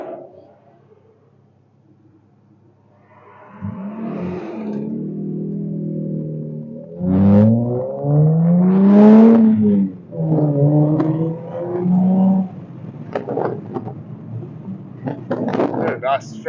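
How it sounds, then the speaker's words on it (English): A 1998 Mazda MX-6 with a manual gearbox roars and climbs in pitch as it accelerates through several gears, loud, close and throaty, each rev rising then dropping at the shift. "Nice throaty roar this car has."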